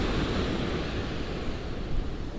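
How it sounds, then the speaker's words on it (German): Large ocean waves rumble and wash into a small fishing harbor on Italy's coast in a continuous broad roar, with wind noise buffeting the microphone. "Unglaublich, was hier für Wellen reinkommen."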